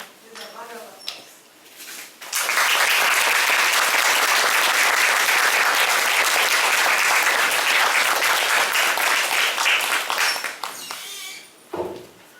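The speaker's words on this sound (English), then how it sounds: "Please welcome him with a round of applause." An audience at an English speech contest bursts into sustained applause to welcome a speaker, loud, dense clapping lasting about eight seconds between brief stretches of spoken voice before and after.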